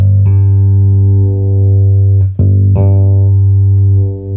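A sustained electric guitar chord on the front pickup of a DNA Custom Guitars Big Boy J rings loud and clear, restruck twice with brief pick attacks, the tone warm and full.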